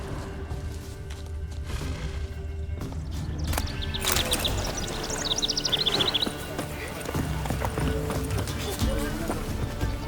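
Hooves of Roach the horse clip-clop steadily on the ground in The Witcher 3 video game, a rhythmic trot under ambient outdoor sound with birds chirping and a voice speaking.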